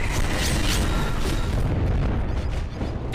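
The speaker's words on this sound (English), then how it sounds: "They bombed the village!" Bombs from bomber aircraft strike a village in a video game, a dense continuous rumble of booming blasts that stays loud throughout with a brief dip near the end.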